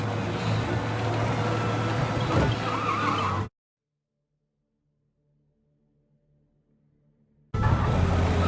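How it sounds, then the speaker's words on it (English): Car in Mafia: Definitive Edition driven fast with skidding tires, a loud dense roar of engine and tire noise that cuts out abruptly into near silence for about four seconds before resuming just as loud. "We lose them by driving real fast and getting clear of them."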